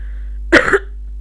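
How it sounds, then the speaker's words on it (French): A single person coughs once, a short rough burst close to the microphone, set against a low steady hum and otherwise silence. "Excusez-moi, faut que je tousse."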